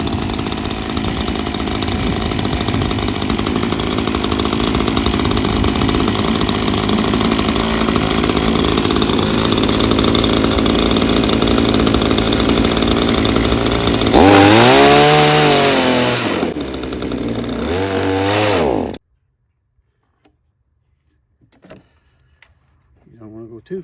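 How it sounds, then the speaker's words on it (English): A chainsaw runs close and loud for a long stretch, then bogs and revs in rising and falling sweeps as it cuts a small groove in wood. It cuts off abruptly, leaving near silence with a few faint knocks. "I'm going to start my chainsaw up, and I'm going to cut a little groove here."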